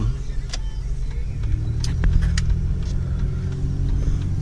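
A red Grand Prix GT drives along, heard from inside as a steady low engine and road rumble with a few faint clicks and rattles above it.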